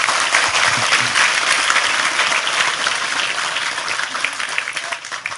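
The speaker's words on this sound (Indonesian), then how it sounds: "Sekali lagi tepuk tangan lebih keras untuk Tejo." A large audience claps loudly and continuously at a talk, the dense applause holding strong before tapering slightly toward the end.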